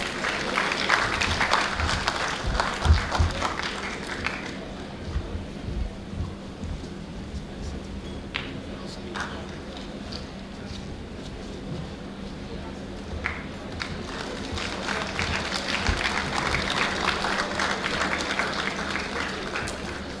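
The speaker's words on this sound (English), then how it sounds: "Please give a big hand" Applause from an audience at a corporate induction masterclass, as a token of appreciation is presented on stage; clapping comes and goes in waves over about twenty seconds, with low hum and bits of talk between.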